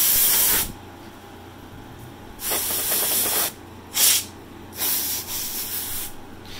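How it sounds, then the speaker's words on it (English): A can of compressed air duster blasts inside an Omen 25L PC case in loud, sharp hissing bursts, one long spray followed by several shorter ones. "you're going to get yourself some duster, just some compressed air, and you want to get in there, you want to air things out"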